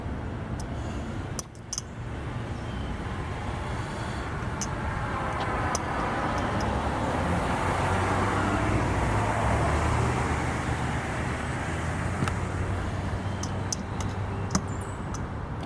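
Late Friday afternoon traffic leaving Emory gives a steady roadway rumble of passing cars, with a few sharp ticks and clicks on top and no talking.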